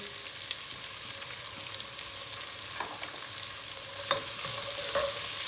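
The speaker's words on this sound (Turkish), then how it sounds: "Soğanla beraber havucumuzu kavuracağız amcacığım." Chopped onions and carrots sizzle steadily as they sauté together in a pan for a green lentil dish, with soft scraping strokes of stirring through the close, continuous frying.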